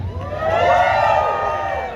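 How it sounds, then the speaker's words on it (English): A crowd at a Six Flags Great Adventure ride announcement cheers and whoops together, rising to a sustained swell of voices before easing slightly, with no distinct clapping standing out. "Give yourselves a round of applause"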